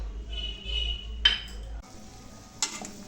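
Cumin powder, coriander powder and chaat masala sauté for a mint bhel masala as a metal spoon stirs and scrapes the pan, giving a couple of sharp clinks over a low hum with a faint tonal whine.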